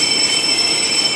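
A train's steel wheels screech in a steady, piercing, high-pitched squeal as it pulls into Paignton station, with a rumble beneath, loud and close.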